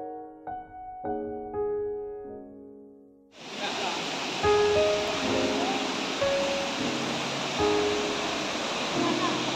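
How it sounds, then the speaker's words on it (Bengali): After a few seconds of quiet, a steady loud rush of flowing water takes over and continues unbroken, with faint voices now and then. "এখান দিয়ে ঝর্ণার জলটা আসছে, এসে বয়ে বয়ে এইখান দিয়ে গিয়ে মিশছে ওই নিচে"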